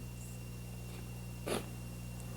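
A single short, breathy sniff through the nose as nasal spray is applied during a rhinolaryngoscopy exam, quiet against a steady low hum, with a faint earlier inhale.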